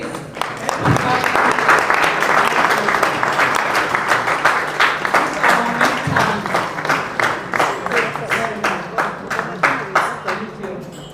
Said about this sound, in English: those of us seated, can we stand so that we applaud